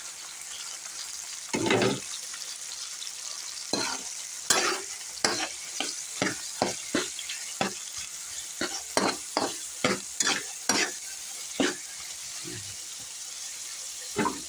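Garlic, tomato and ground pork sizzling in a frying pan for Filipino pakbet, with a steady hiss broken by repeated scraping stirs of a utensil. A voice speaks briefly.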